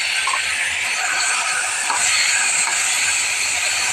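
Chicken and onions sizzling in hot oil with cinnamon and cardamom, a steady, bright frying hiss that carries on loudly and evenly throughout without any speech.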